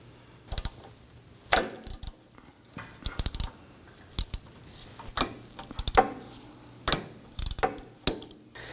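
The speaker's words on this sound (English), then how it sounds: "Now we use our 14mm socket extension and our ratchet to go ahead and start to break these free." Ratchet fitted with a 14mm socket and extension breaking loose wheel hub bolts on a 2018-2024 Toyota Camry rear hub, heard as bursts of sharp clicking ratchet strokes repeating at close range with short pauses between.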